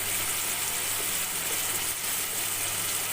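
Tomatoes sauté with turmeric in a pan, giving a dense, steady sizzle with fine crackling that stays close and even for a few seconds, with no talking.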